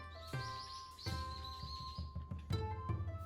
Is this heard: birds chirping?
yes